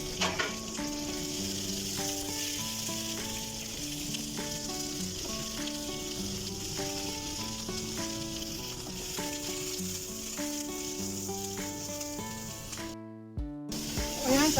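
Garlic and ginger frying golden brown in a pan for a cashew shrimp dish, a loud steady sizzle with stirring, heard alongside background music.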